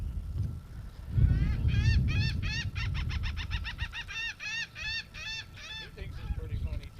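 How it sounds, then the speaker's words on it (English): Outdoors on the coast at Beaufort, North Carolina, a bird gives a rapid series of honking, goose-like calls, clear and fairly near, over a low rumble of wind and handling noise. "did you hear that bird?"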